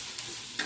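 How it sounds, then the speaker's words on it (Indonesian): Spaghetti with plums stirred in a frying pan gives a soft, steady sizzle with two brief scraping stirs, short and close. "Aduk-aduk kembali."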